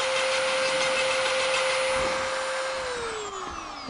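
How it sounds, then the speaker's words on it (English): A Dremel rotary tool carves a wooden rosette with a steady high-pitched whine that holds level, then drops in pitch and fades slightly toward the end as the tool slows, heard alone without talk. "Or as we did, use a Dremel."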